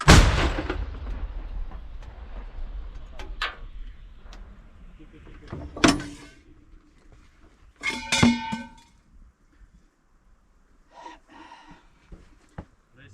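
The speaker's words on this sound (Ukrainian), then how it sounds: "Постріл! Постріл!" Several loud booming shots from an American M101 105 mm howitzer, with sharp onsets and long rumbling tails, spaced a few seconds apart, with voices shouting between them.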